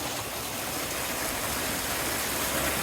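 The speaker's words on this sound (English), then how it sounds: "He just got totally freaked out by a waterfall." A waterfall near the deserted medieval village of Wharram Percy in North Yorkshire pours in a constant, dense, full-range rush of falling water, close and loud with no voices.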